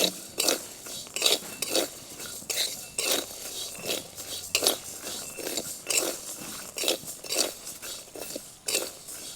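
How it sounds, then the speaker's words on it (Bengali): Raw peanuts, green chillies and sago pearls are stirred and fried together in a pan, with repeated scraping and clinking of a spatula against the metal in an uneven rhythm, close and moderately loud. "কাঁচা বাদাম, 3টি কাঁচা লঙ্কা, 3টেকে একসাথে ভেজে নেব।"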